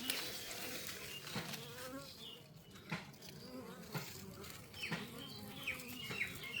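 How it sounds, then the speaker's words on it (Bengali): Angry honeybees swarm around a hive hidden in a motor room, their dense buzzing droning continuously, with individual bees zipping close by in brief louder passes against a fairly faint background. "মৌমাছি কিন্তু অনেক ক্ষেপে আছে।"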